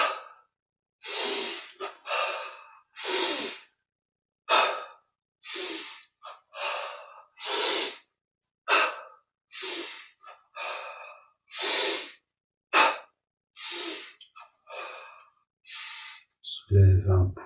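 Deep breaths during yogic arm movements: a long series of loud, close inhales and exhales, each a rushing airy burst separated by short pauses, repeated around twenty times.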